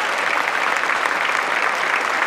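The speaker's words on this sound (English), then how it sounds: "Give him a huge round of applause." Dense, steady applause from a large audience at a mayoral inauguration ceremony in Philadelphia, loud and sustained throughout without pause.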